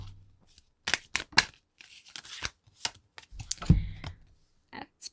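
Divination and blessing cards being shuffled and pulled for a reading, with a series of quick papery riffles and flicks in short bursts and a few soft taps between them, close and fairly quiet.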